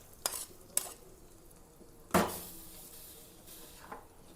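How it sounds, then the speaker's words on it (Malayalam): A tempering of mustard seeds, dried red chillies and curry leaves tipped into a pumpkin and lentil coconut curry, giving a sudden sizzling burst with a decaying hiss, preceded and followed by a few light utensil clinks. "അപ്പം നമുക്ക് ഈ കറിയിലേക്ക് അല്പം വറവ കടുകും വറ്റൽമുളകും കറിവേപ്പിലയും"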